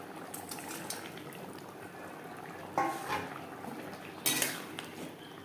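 Fish curry gravy bubbles softly in a pan, a low simmer broken by two louder clatters of a utensil against the metal.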